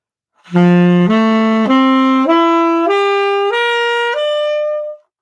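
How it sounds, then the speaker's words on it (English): A saxophone climbs through a wide arpeggio up to the 13th, seven sustained notes stepping upward in large leaps, each held about half a second, clear and close. "if we were to play an arpeggio all the way up to the 13, it would sound like this."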